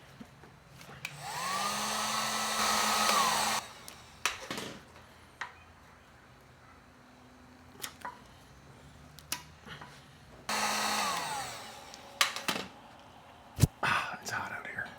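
A hot air gun blows on a Harley Davidson tank badge to soften its adhesive, two steady whooshing bursts of several seconds each, with scraping clicks and knocks between them.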